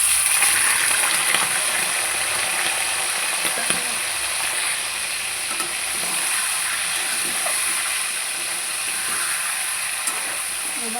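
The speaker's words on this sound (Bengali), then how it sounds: "আমি এবার এই আলু ভাজা তেলে চিকেনগুলো দিয়ে ভেজে নেব।" Chicken pieces frying in hot oil left over from frying potatoes, a strong, continuous close-up sizzle and hiss that holds steady for about eleven seconds.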